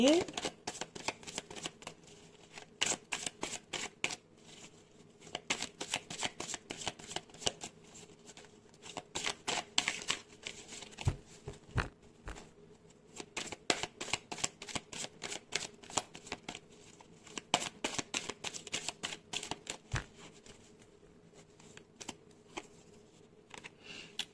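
Tarot cards are shuffled over and over, a long run of crisp, rapid riffling flutters and soft slaps close by, pausing briefly between bursts, with a voice speaking faintly at moments.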